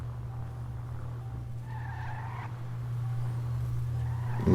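Tires squeal and skid briefly as a car is maneuvered in GTA V Online, a short scraping screech rising over a steady low engine drone, fairly close and without talk.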